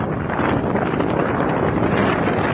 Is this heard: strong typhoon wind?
yes